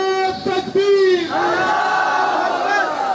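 A large crowd shouts a religious slogan in unison in reply to a call of Nara-e-Takbeer at a religious gathering, loud, close and sustained, with a few rising and falling chanted phrases.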